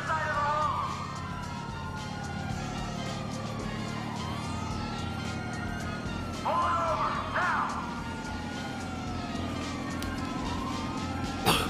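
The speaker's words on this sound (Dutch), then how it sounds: "Wat wel chill is dat niet elke auto aan de kant schiet als je de sirenes aan hebt" A police car siren in the video game Grand Theft Auto V wails in steady rising and falling sweeps for the whole stretch, loud and close over a low engine rumble, with a brief crash-like burst partway through.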